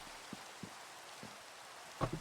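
Rain falling in Minecraft, a soft steady hiss with scattered faint drop taps and a couple of slightly louder thuds near the end, quiet and alone without voices.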